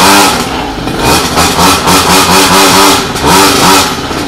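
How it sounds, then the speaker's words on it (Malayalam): A two-stroke motorcycle engine revs loud and close, the throttle blipped up and down repeatedly with a rasping, clattery exhaust note throughout. "നേരെ പോയി ടൂ സ്ട്രോക്ക് വണ്ടിയുടെ സൗണ്ടും കാര്യങ്ങളും ഒന്ന് കേട്ടിട്ടോ"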